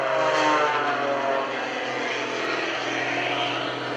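Aerobatic propeller airplane flown by Gary Ward at the 2013 Greenwood Lake Airshow, its engine a loud, continuous droning roar that eases slightly after the first second.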